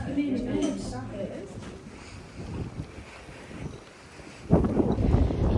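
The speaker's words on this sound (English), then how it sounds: "I don't know if you can hear me, it's so windy." Strong wind on the Isle of Skye buffets the microphone with heavy rumbling gusts, surging loudly near the end, while voices are faintly audible underneath.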